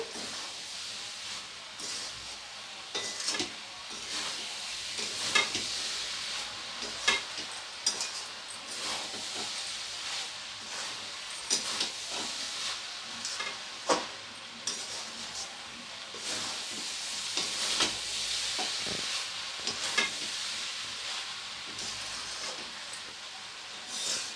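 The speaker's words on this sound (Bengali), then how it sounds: "সমস্ত কিছুকে একসাথে খুব ভালো করে একটু কষিয়ে নেব ঘি আর বিরিয়ানির মশলাটাকেও ভালো করে মিশিয়ে দেবো" Rice stir-frying with ghee and biryani masala for an egg biryani, a soft hissing sizzle broken by scraping strokes of a spoon in the pan, moderately quiet and close with no voices.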